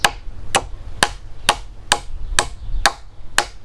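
A hammer striking a nail into wood while a ladder is built, eight sharp, evenly spaced blows about half a second apart, close and loud.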